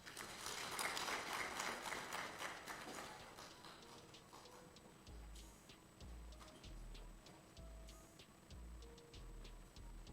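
A crowd applauds the Honorable Minister after a speech at a SADC meeting of monitoring and evaluation experts on corrections and penitentiary services in Malawi. Dense, loud clapping fills the first seconds, then thins to scattered claps with low thumps.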